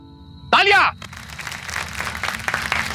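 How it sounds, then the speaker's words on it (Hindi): An audience breaks into applause at a magic show, a dense patter of many clapping hands that builds and holds after a brief burst of voice. "तालियां।"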